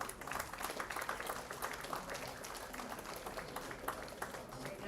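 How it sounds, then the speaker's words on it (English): Faint applause from a conference audience during a felicitation ceremony, a soft continuous patter of many hands clapping at a distance. "A round of applause,"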